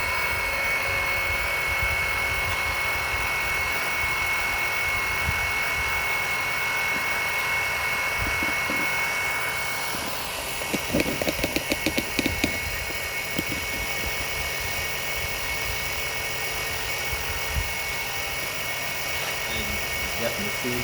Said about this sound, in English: So let you see it pumping.